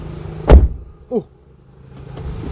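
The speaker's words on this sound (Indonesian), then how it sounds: "pas nutup pintu tuh jadi kayak bukan mobil murah ya. Jadi ya suaranya dep gitu, nggak plang gitu ya" A Suzuki Karimun Wagon R car door shuts with a deep, solid thump, followed by a brief fainter mechanical click or whir, then quiet.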